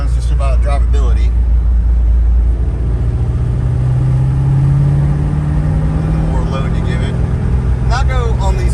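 A 2015 Camaro SS with a GPI SS2 cam bogs in third gear at 1,000 RPM, a deep, steady, loud rumble with a slowly rising drone. Someone talks over the start and the end.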